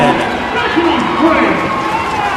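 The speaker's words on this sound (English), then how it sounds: "the Bulldog faithful behind us, you can hear their crowd getting into it" A home crowd at a women's college basketball game at the NCAA Division II championship keeps up a steady roar and murmur beneath a commentator's voice.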